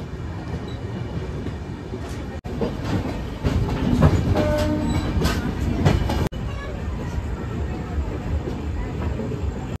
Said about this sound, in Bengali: আমাদের ট্রেন ছেড়ে দিল বর্ধমান জাংশন থেকে